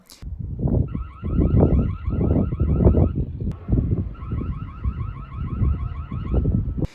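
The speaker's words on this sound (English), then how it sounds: "if you press that, it'll sound the alarm on the other end of the camera" A loud electronic alarm siren from a Reolink Argus 2 wireless security camera blares in repeating warbling bursts, pausing briefly midway before starting again, over a rumbling, wind-buffeted background.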